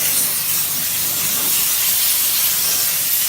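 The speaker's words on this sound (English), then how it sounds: "So, just let that steam clean away with it." High-heat steam blasts against a car underbody during cleaning before undersealing, a loud, steady close-up hiss that continues unbroken throughout.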